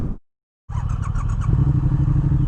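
Following a short silence, a 2016 Triumph Thruxton R motorcycle engine with British Customs aftermarket exhaust pipes rumbles close by with a deep, throaty exhaust note that swells slightly as it runs.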